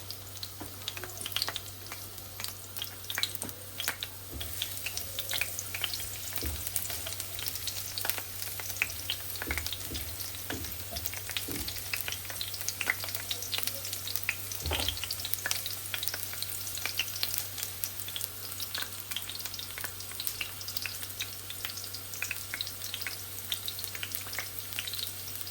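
Garlic and onion fry in a pan for a chewa fish bhuna, a steady, fairly quiet crackling sizzle with occasional sharper pops and faint stirring, under a low constant hum, with no talking.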